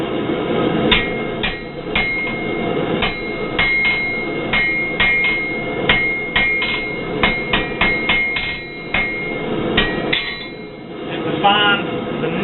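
Hammer striking a steel rod on an anvil while forging a leaf for an ash shovel, loud ringing metallic blows in an irregular rhythm, close by, with faint talk in the background.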